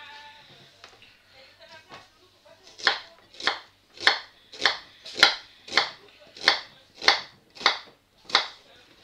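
A knife finely chopping ingredients for an autumn spaghetti sauce on a board, about a dozen sharp, evenly spaced chops after a few softer taps, close and clear.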